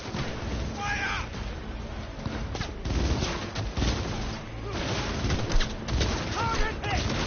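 In the Cyberpunk 2077 video game, a gunfire volley rattles as a dense, continuous mix of rapid shots and bursts. A voice is heard faintly amid the clatter.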